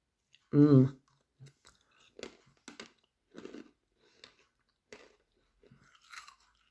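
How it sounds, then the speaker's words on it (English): Crunchy chewing and biting on a double chocolate biscuit, close up, one loud bite followed by several softer crunches at irregular intervals. "The biscuit is so crunchy, so crunchy."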